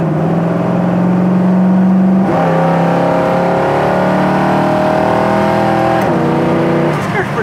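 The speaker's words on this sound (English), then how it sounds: "I'm gonna just take it down to about 50, 55 and just see if that passing gear is gonna, you know, if the kickdown is gonna work." A 1972 Chevy Nova with a 350 small-block V8 kicking down under throttle: a loud engine roar climbs steadily, drops at a gear change, then climbs again, heard from inside the car.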